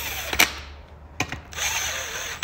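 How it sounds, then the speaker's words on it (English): Impact wrench running down beadlock ring bolts on a Polaris RZR Pro R wheel with sand tires, in short bursts of whirring and ratcheting hammering separated by brief pauses, close and loud. "No, I'm not torquing them down with the impact."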